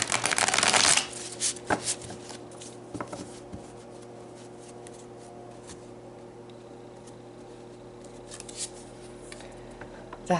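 A deck of tarot cards is shuffled in a burst of crisp riffling at the start, followed by a few soft card flicks and slides over a quiet, steady room hum.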